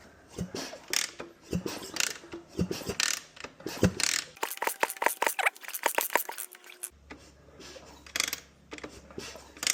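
Rapid mechanical clicking and ratcheting from a KTM 250 EXC two-stroke motorcycle engine being turned over by hand with oil in the cylinder, uneven bursts of clatter close by with no voices.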